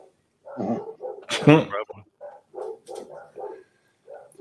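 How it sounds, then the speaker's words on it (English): Dogs bark and yip upstairs in short repeated bursts, fairly close, with a couple of louder yelps mixed in. "You probably hear my dogs upstairs bark"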